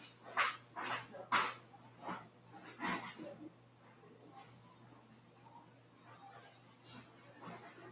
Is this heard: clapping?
no